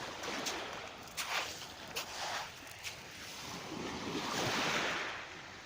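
Waves wash onto a quiet beach on the Côte d'Azur, surging in soft swells with a few brief splashy crests, mixed with gusts of wind buffeting the microphone.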